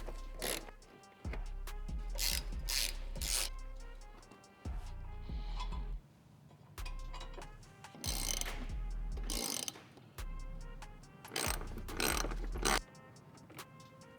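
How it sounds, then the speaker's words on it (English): A ratcheting wrench on the 10mm bottom bumper bolts of a Toyota 4Runner clicks in repeated close bursts of rapid pawl ticks, separated by short pauses and faint metallic handling sounds. "there's gonna be 6 bolts on the bottom that you're gonna take off with your 10mm"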